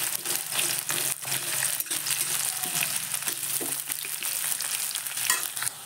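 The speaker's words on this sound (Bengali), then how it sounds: "তেলটা গরম হয়ে গেলে তাতে দিয়ে দেব একটা এলাচ, লবঙ্গ আর একটু দালচিনি দিয়ে দেব কুচি করা পেঁয়াজগুলো দিয়ে একটু নেড়ে নেব।" Chopped onions frying in hot oil with cardamom, clove and cinnamon, a steady crackling sizzle broken by repeated scrapes and knocks of a stirring spoon, close and with no talk.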